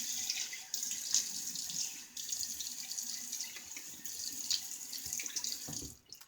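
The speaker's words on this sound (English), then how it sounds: "Let me get a quick rinse." Water runs from a tap to rinse a prototype razor, a steady soft hiss of flow with a few faint splashes and clinks, close by and fairly quiet.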